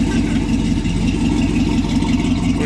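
A 454 big-block V8 runs loud and close with a steady, heavy rumble that holds its level throughout, no clear rise in revs, with a faint voice underneath.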